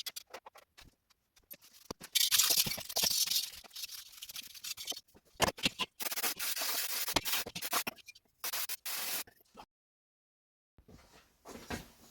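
An engine cylinder head being cleaned by hand, with intermittent bursts of close scrubbing and scratching, separated by short pauses and near-silence.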